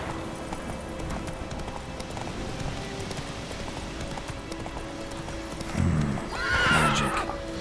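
A horse in the video game The Witcher 3: Wild Hunt gallops with rapid, rhythmic hoofbeats over a steady ambient bed, ending in a loud, close neigh near the end.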